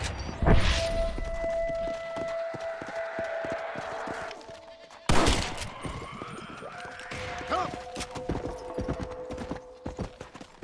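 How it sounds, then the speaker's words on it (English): Goats bleat on a mountainside in Red Dead Redemption's Undead Nightmare, with a horse's hooves clip-clopping steadily alongside and a few game sound effects, while a voice talks in the background. "There's a heaping buttload of goats up here"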